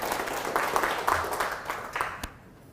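A small group claps at a coffee product presentation, a brief ripple of applause that fades out near the end with a few last claps.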